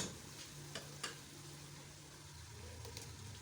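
Potato and aubergine go into a hot pan of spices and sizzle softly, with a few light knocks of a spoon stirring, faint and steady.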